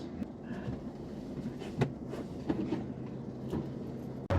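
Train at Delhi Cantt railway station, a rumbling rolling sound with scattered clanks and clicks, moderately close and steady.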